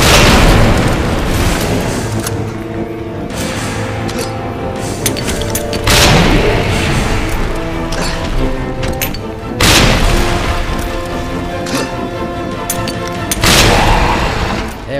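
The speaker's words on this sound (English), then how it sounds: "Alright, let's start giving them grenades." Repeated grenade explosions in the Resident Evil 2 remake video game, loud booming blasts landing every few seconds over a dense wash of game noise and gunfire.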